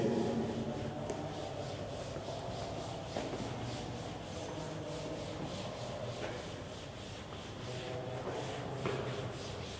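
Steady rhythmic rubbing of an eraser or duster wiping writing off a classroom board, close and continuous for several seconds with a scratchy, sanding-like texture and no voices.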